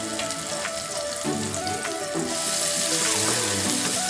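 Chopped onion sizzles in a hot pan after going into browned oil, a loud, steady crackle that swells louder partway through.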